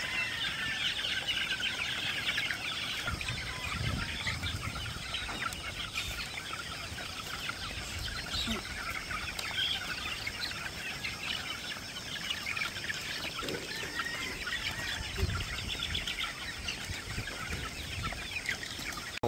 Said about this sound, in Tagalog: Grabing kumain ng mga sisiw natin mga kosa.